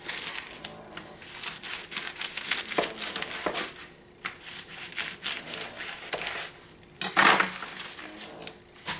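Knife chopping collard green leaves on a board for old-fashioned Southern collard greens, a steady run of close, crisp cuts with clattering, crunching strikes and a brief louder burst near the end; no talking.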